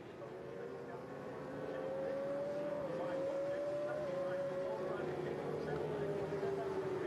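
British Superbikes race at Silverstone, with a steady engine whine that rises and shifts as bikes go past at a distance, under steady commentary.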